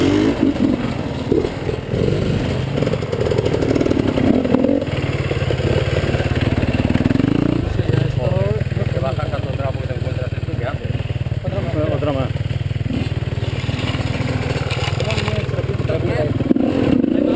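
Motorcycle engines drone and rev along a rocky off-road trail, a steady mid-pitched buzz throughout with rising passes, heard under riders talking nearby.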